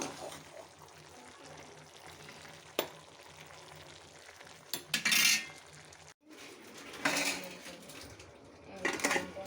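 Curry of mulakaya and dosakaya being stirred in a pan, with scraping spoon-on-metal bursts and soft sizzling between quieter stretches, fairly close and without talk.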